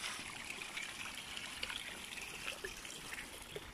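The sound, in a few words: water trickling from a spring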